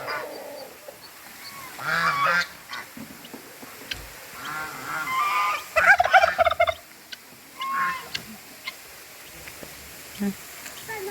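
Intermittent calls from turkeys and chickens, including gobbling and honking bursts, scattered over a noisy yard with faint voices in the background.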